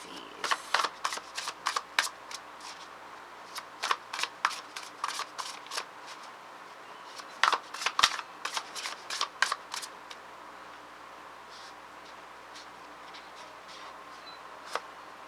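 Tarot cards being shuffled by hand, with repeated bursts of crisp riffling and flicking in uneven clusters over about fifteen seconds, heard up close and fairly quiet, with no talking.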